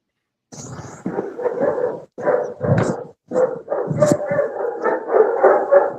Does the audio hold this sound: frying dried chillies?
no